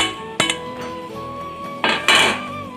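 A metal lid clanks onto a saucepan of near-boiling water, two or three sharp ringing clinks close by with a shimmering metallic resonance between them, no voices.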